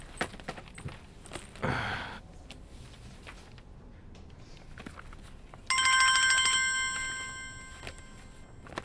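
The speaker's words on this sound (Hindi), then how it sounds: "फोन बज रहा है, सुनाई नहीं दे रहा?" A telephone bell rings in a steady, repeated trill in a movie scene, starting partway through, over faint room noise and a few footsteps.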